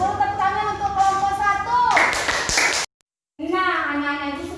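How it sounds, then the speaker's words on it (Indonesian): Schoolchildren in a classroom clap for a group, a short burst of applause that follows an adult voice and cuts off abruptly, after which the speaking resumes. "Tepuk tangan untuk kelompok"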